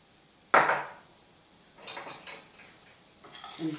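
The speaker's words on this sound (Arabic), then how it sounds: "نخلط الحوت في وسط الزيت" Fish being mixed with oil in a dish, giving a sharp clack of dish contact followed by softer scattered clinks and wet handling noises, close and fairly quiet with no talking.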